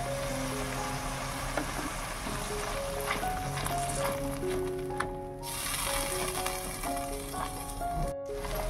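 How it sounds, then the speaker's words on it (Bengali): Masala frying with a nut and poppy seed paste in a pan for an egg korma: a continuous dense sizzle holds close and steady throughout, with occasional faint scrapes and no talking. "এর মধ্যে বাদাম আর পোস্ত বাটাটা দিয়ে দেবো, দিয়ে আবারও ভালোভাবে কষিয়ে নিতে হবে"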